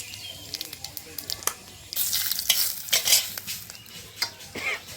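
Cumin seeds and leaves sizzling in a little oil in a pan, a steady close crackle that rises and spits louder partway through, with a spoon stirring and scraping.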